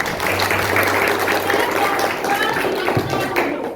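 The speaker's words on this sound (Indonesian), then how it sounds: "berikan dulu tepuk tangan untuk kelompok 2" Classroom audience applauding a student group after its presentation, a steady dense patter of clapping that runs throughout, with voices talking underneath.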